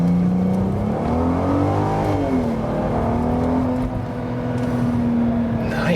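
Golf Mk4 R32 with its six-cylinder engine pulls hard away from a standstill, a loud continuous rising engine note climbing through the gears with brief dips at shifts, heard from inside the car.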